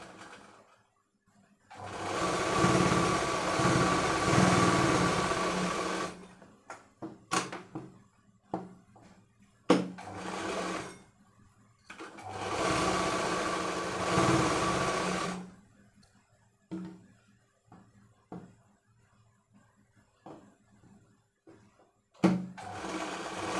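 A sewing machine stitches a dhoti pyjama in two long, loud runs of rapid whirring, separated by quiet pauses filled with small clicks and handling knocks of the fabric.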